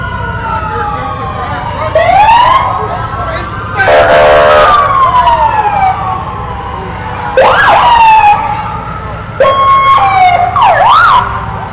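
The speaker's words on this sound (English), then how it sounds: "So just passing here is Brittany County Ambulance." An ambulance siren wails in short, loud bursts as it passes close by in a Christmas parade, alternating rising whoops and steady tones over a low engine rumble.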